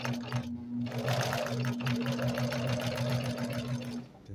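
A Singer 2868C sewing machine stitches a buttonhole, running steadily for about four seconds with a loud, continuous whirring motor and a rapid needle rhythm, then stopping abruptly.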